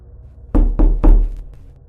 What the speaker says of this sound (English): There was a knock on Asi's bedroom door.